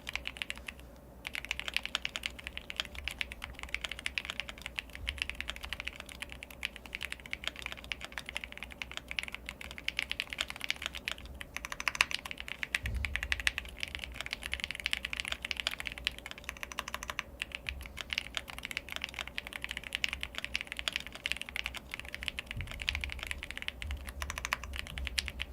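Continuous keyboard typing on a computer, rapid steady clicks throughout at close range, with no talking.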